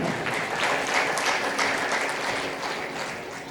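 A sermon audience claps loudly and steadily throughout, a dense wash of many hands filling the room with no voices over it.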